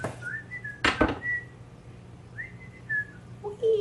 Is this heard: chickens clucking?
no